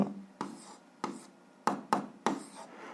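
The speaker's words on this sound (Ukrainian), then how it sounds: "Записуємо відповідь, пишемо відповідь." Pen strokes on paper while a maths answer is written out by hand, six short scratchy bursts in an irregular rhythm, close and fairly quiet, with no talking.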